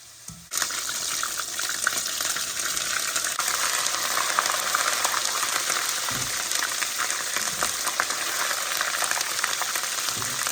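Crab rangoons browning in a frying pan of hot oil, a loud continuous hiss and crackle of frying that starts abruptly and holds steady, close up, with a couple of faint low knocks.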